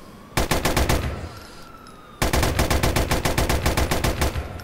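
Bursts of rapid automatic fire from a modded M16 in Grand Theft Auto IV: a short loud burst, a brief pause, then a longer sustained volley of closely spaced sharp cracks, with no voices.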